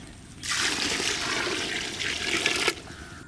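Water is poured into a pot for ghee rice, over rice being sautéed. A steady gushing splash starts abruptly, runs for a few seconds and stops sharply, with no voice over it.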